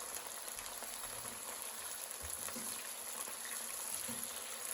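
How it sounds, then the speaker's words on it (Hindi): Brinjal chips frying in hot oil, a steady close hiss and fine crackle that holds evenly throughout with no talking. "इसको हम अच्छी तरीके से हम चिप्स फ्राई कर लेते हैं"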